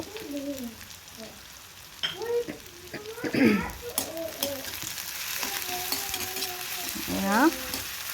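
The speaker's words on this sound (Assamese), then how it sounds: "এতিয়া পিঁয়াজখিনি খুব ভালদৰে পিংক কালাৰ হোৱালৈকে মজাব লাগিব" Onions frying in a pan for jackfruit kurma, a soft sizzle under regular stirring strokes, close by, with background chirps and a voice talking intermittently.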